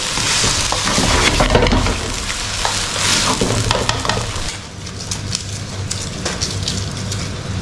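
Corned beef fried rice sizzles and crackles loudly in a hot pan as it toasts, a continuous dense frying hiss with scraping stirs that dips briefly partway through.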